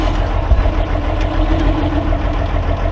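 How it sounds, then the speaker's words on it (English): A boat motor runs steadily at a high-altitude reservoir on a windy evening, a constant low engine drone mixed with wind rumble and no breaks. "Motor's hating it."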